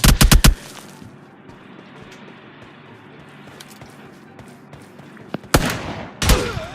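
Gunfire in PUBG Mobile during a pistol challenge in Boot Camp, with a rapid burst of loud close shots at the start, a quiet stretch, then two more sharp heavy blasts near the end.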